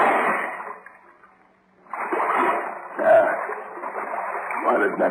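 In a 1937 radio drama, people wade through waist-deep water in the dark. Bursts of sloshing and splashing stop briefly, then return in broad surges.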